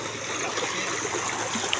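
River water flows in a steady, close rushing wash, a brief unbroken stream of noise with no voices.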